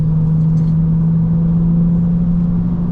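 A Lexus IS300 with modified suspension drives a curvy road, its engine a loud, steady low drone with constant road rumble heard from inside the cabin, with no talking.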